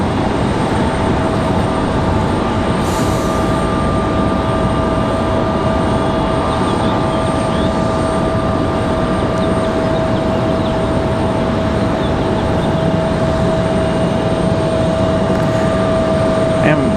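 An Icelandair Boeing 737 MAX 8 approaches Raleigh-Durham International Airport, heard as a constant loud engine roar and whine from a distance, steady throughout, with a voice speaking over it.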